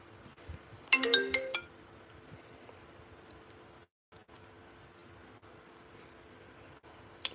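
A phone ringtone chimes once, a short bright melodic burst near the start, then fades into a quiet room hum with occasional faint clicks.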